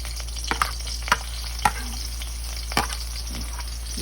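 Onions sauté in oil in a pan for sardines with greens, a steady low sizzle with a constant hum underneath and a few sharp clicks of a utensil stirring, close, no talking.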